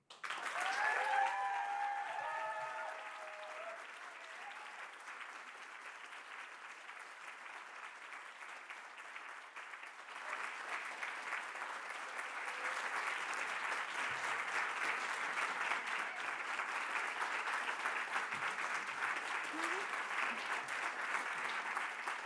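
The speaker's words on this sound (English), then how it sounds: "Please give a warm Dundee applause again to Hamish MacDonald." Sustained applause from an audience at the Scots Language Awards 2025 ceremony in Dundee, a steady wash of clapping that grows fuller partway through and carries on without a break.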